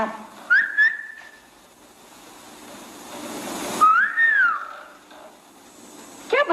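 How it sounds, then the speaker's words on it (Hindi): A man whistles at a girl walking past: a couple of short chirps, then a longer rising-and-falling wolf-whistle, clear and near against a quiet background, with another quick whistle at the end. "अकेली लड़की को देखकर सीटियां बजाते हो तुम?"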